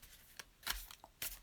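A deck of cards is shuffled for a psychic reading, giving a few short, soft riffling bursts separated by brief quiet gaps, close by and fairly faint.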